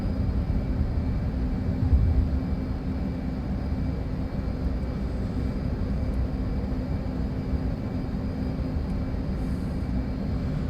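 An F/A-18 Hornet jet flies in the DCS flight simulator game, its engines a steady, loud, broadband roar that holds unchanged throughout, with no talk.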